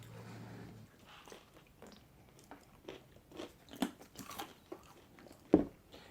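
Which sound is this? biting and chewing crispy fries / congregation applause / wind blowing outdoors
biting and chewing crispy fries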